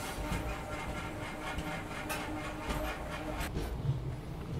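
The Howrah Yesvantpur Express rolls along with a steady low rumble and faint rhythmic clatter, heard from on board at low volume with occasional soft knocks and no talking.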